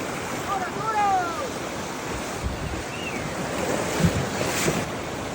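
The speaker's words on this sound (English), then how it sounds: "We're crossing the river." Water rushes and splashes steadily while crossing a river on horseback in the jungle, with wind buffeting the microphone and occasional birdsong in the background.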